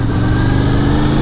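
A carbureted 1988 Honda VFR 750 F motorcycle engine revs high and steady, a loud, close, continuous mechanical drone with no talk over it.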